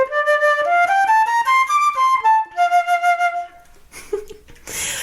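Fully assembled flute played solo, a short rising run of clear notes followed by a held tone, near and moderately loud, ending in a breathy rustle.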